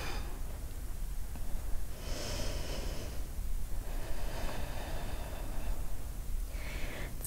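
Slow, audible breaths, with broad airy swells on the inhale and exhale, taken during a seated forward straddle fold in a yoga practice, close and steady against a faint background.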